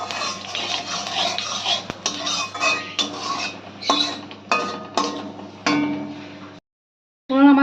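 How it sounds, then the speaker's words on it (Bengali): Nigella seeds sizzle in hot oil in a pan for a Bengali fish curry, with a steady frying hiss broken by repeated scraping and clinking strokes of a utensil, a brief silence near the end, then sizzling again. "ফোড়নটা আমরা ভালো করে একটু ভেজে নেব।"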